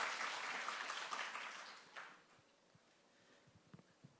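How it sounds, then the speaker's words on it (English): An audience at a public HR conference gives a warm round of applause to welcome a speaker. The clapping is full for about two seconds, then thins into a few scattered claps and faint room noise. "please welcome Professor Hollister with a big applause"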